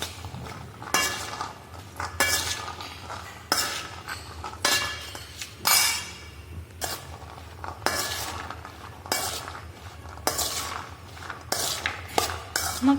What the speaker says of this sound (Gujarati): હવે આને મિક્સ કરી લઈએ.